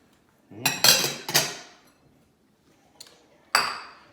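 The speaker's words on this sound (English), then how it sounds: "we're going to put green onions and some white onions in there" Green onions and mild white onions dropped into a burger mix in a bowl, several soft thuds and light clinks in quick succession, then a pause and two more, close and fairly quiet.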